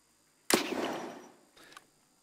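A grenade launcher fires in the video game Escape from Tarkov: one sharp, loud report with a decaying tail, then a fainter secondary burst about a second later, with no explosion following.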